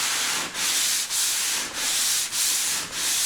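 Close, even sanding strokes with a pad along the grooves of a Hume door before painting, a continuous abrasive hiss broken by brief dips at each change of direction, roughly six passes without speech.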